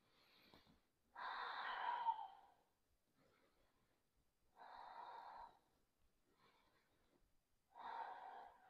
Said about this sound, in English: take 3 more deep Ujjayi breaths